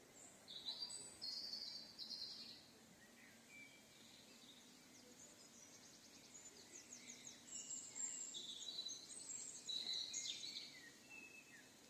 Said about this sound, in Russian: Птицы поют, но не так, как утром.